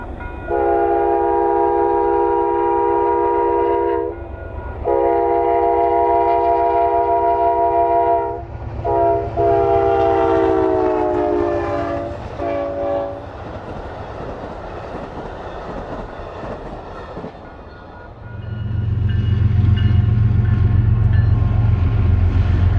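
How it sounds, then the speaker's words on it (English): A northbound Amtrak City of New Orleans passenger train sounds several long, loud horn blasts, the last sliding in pitch as it passes, then the cars rumble by in a heavy, close roar. "Next along would be the northbound Amtrak City of New Orleans."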